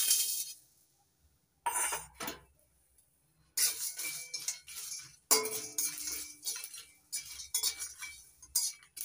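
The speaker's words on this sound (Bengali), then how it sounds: "4টে লবঙ্গ, 4টে এলাচ, একটা দারচিনি টুকরো আর 4টে শুকনো লঙ্কা। খালি খোলা ভেজে নিচ্ছি।" Cloves, cardamom, a cinnamon piece and dried red chillies dry-roasting in an empty pan, heard as scattered clinks and scraping taps of spices and utensil against metal in short bursts separated by quiet gaps.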